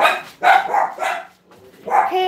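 A dog barks close and loud in a quick series of sharp barks with brief pauses between them, heard alone without talk.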